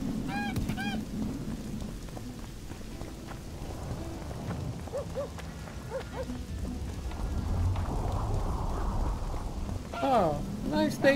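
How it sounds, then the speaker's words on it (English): Steady rain falls across an outdoor scene in the video game The Witcher 2, a continuous hiss beneath game ambience, honking geese-like calls and brief voices. "Don't even mind the rain."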